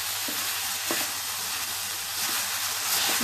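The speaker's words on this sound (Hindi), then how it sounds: "इसे मुझे और भूनना है थोड़ा, ताकि अच्छे से ड्राई हो जाए" Gajar ka halwa, grated carrot, is roasted and stirred in a pan over heat, giving a soft steady sizzle with a few scraping stir strokes, close and fairly quiet, with no voices.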